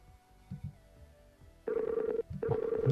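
A telephone ringback tone plays while a call is placed: two clear, evenly pitched ringing bursts after a quiet stretch with faint background thumps, and no one talking.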